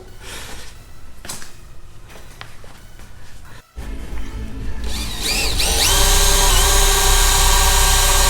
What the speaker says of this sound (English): You cut the wood.